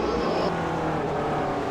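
A race car runs at speed on a track, its engine a steady near roar with no talking.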